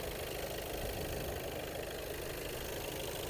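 A Skoda Octavia A7 RS DSG 4x4 engine idles steadily with a constant low rumble and hum throughout, close by, with no talking.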